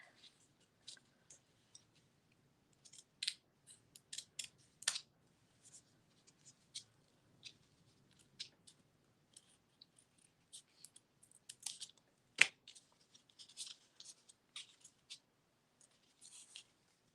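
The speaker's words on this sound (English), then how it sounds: "I'm going to snip it a little bit more." Scissors snip paper during a gel print craft session, producing scattered short, faint clicks and cuts separated by quiet pauses, with soft handling rustles in between.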